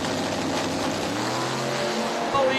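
Drag racing cars launching in an elimination round, one lifting into a wheel stand on its back bumper: a loud, steady, close engine roar and crowd-wide drone with a brief surge near the end.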